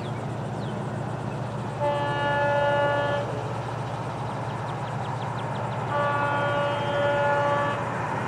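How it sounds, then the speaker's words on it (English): FEC local freight train passing with a steady low rumble of wheels and two long horn blasts, moderately distant, with no talk. "Looking for the 920 local northbound this Thursday morning, 411 in charge, 48 total axles on this train."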